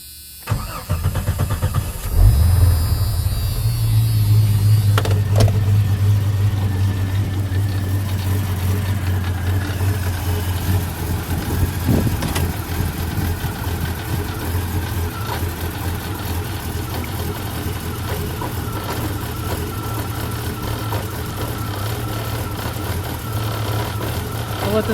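A car engine cranks and catches after a couple of seconds, then settles into a steady, loud, close idle with a faint hum running through the rest of the clip during a leak check after repairs.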